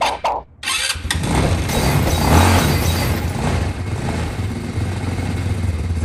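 A Tao Motor G200 ATV engine cranks briefly, then catches and settles into a steady, loud, close-up running drone with a slightly uneven mid-range throb.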